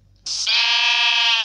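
A sheep in the video game Minecraft gives a single sustained bleat, loud and clear, lasting just over a second with no talk over it.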